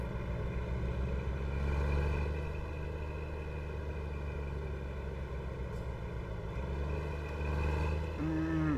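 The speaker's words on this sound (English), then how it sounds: "start the truck and head out that way." A truck engine idles with a steady low rumble in American Truck Simulator, holding constant for most of the stretch before a brief rise near the end as it starts up, with no talking.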